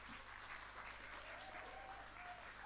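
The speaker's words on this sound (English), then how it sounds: "Give him a round of applause." A pub audience applauds the singer at a live music night, a steady wash of clapping that holds evenly throughout, with faint voices underneath.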